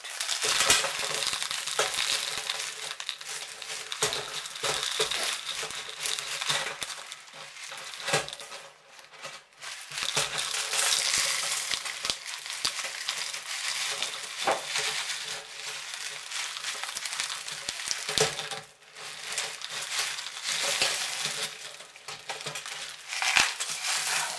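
Loose, gritty orchid potting medium rustles and crunches as it is tipped out of a pot, a continuous dry crumbling with brief pauses, close and fairly loud.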